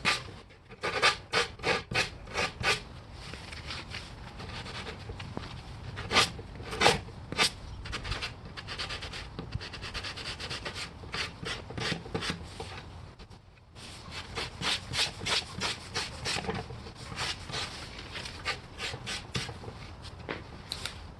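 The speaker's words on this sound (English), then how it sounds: "And sand." Hand sanding along edge banding on an outdoor kitchen cabinet: quick, close scratchy strokes come in bursts with short pauses, a dry rasping rhythm throughout.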